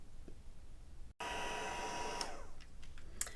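A heat gun switches on abruptly and runs as a steady, loud whooshing roar of hot air, close by, with a faint click beforehand, used for card making.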